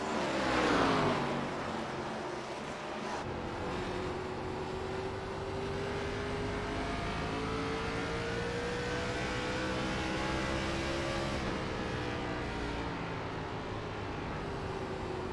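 An ARCA race car's engine drones at Richmond Raceway under throttle, a sustained rising and falling engine tone that holds steady for long stretches, heard at a distance over broad track noise with no talk.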